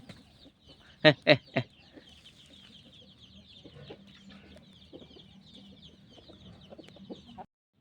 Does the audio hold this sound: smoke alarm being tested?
no